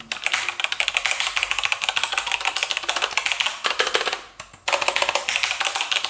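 A heavy MSI keyboard clatters under a rapid, continuous run of loud clicky keystrokes close up, with a brief pause near the end before the typing resumes, and no voices.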